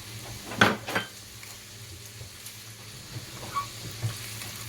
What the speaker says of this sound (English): Okay, it's time to add in the onions.